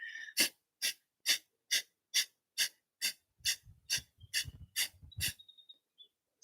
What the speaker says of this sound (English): It's done with a sharp exhalation, moving the breath with the diaphragm here